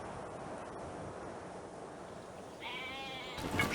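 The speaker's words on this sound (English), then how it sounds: "Sheep." Sheep bleating in the strategy game Civilization V, a single wavering bleat arriving near the end over a low windy ambient bed, clear and fairly close with no speech.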